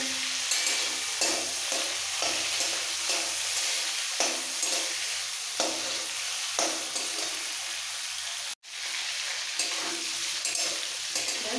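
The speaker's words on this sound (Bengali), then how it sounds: "হালকা করে মাছগুলো ভেজে নেব যাতে শক্ত না হয়ে যায়।" Prawns fry lightly in oil in a pan for a Bengali potol chingri dish, giving a steady, dense sizzle throughout with soft stirring scrapes, one brief dropout near the end, no talking.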